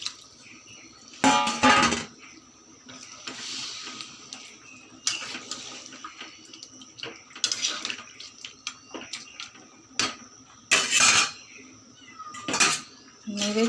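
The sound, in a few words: water being poured into a pot of fish-head muri ghonto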